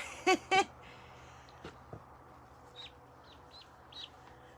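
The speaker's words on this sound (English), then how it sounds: "This is my daughter's little duck." A small pet duck gives two loud, close peeps, followed by softer, scattered chirps over a quiet background.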